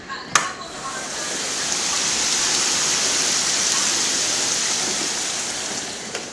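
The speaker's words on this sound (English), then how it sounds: "It is crazy rain, crazy wind." Heavy rain and wind during Hurricane Irene roar as a steady, dense broadband wash that swells after a sharp knock near the start and holds loud throughout, with no speech.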